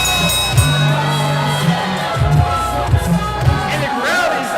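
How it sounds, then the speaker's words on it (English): A wrestling crowd at an Empire Pro event reacts in upset, with loud sustained arena noise, scattered shouts and repeated low voiced calls rising and falling throughout. "the crowd is upset about what just happened."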